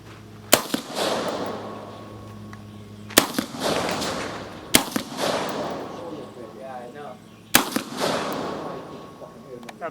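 Four sharp, loud gunshot-like bangs from a .300 Blackout pistol, spaced a second or two apart, each trailing a ringing echo, with someone talking quietly between shots.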